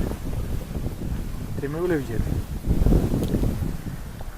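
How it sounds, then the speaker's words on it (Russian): Strong wind buffets the microphone in a steady low roar on a frozen lake during ice fishing, with a brief voice rising over the gusts partway through. "Ветер очень сильный."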